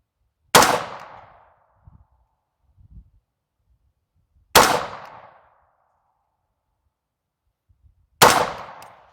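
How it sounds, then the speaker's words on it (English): A .300 Blackout rifle set up for general-purpose use fires three loud, sharp shots spaced about four seconds apart, each with a short ringing decay, heard up close with faint handling noises in between. "I'm going to fire a new 3-shot group."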